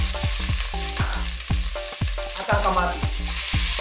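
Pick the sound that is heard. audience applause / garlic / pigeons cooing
garlic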